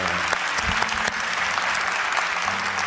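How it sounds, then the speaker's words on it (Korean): At a church school teachers' training gathering, a congregation applauds to bless and encourage teachers and pastors. The clapping is dense and sustained, with scattered sharper claps, and no voices rise above it. "우리 다 같이 한번 박수로 축복하고 격려하겠습니다"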